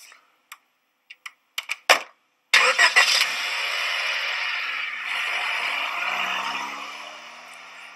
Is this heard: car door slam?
yes